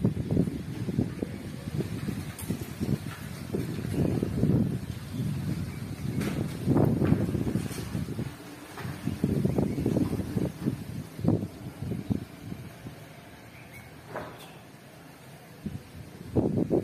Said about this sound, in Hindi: बीच बीच में हवा खूब तेज तेज बीच में चल रही है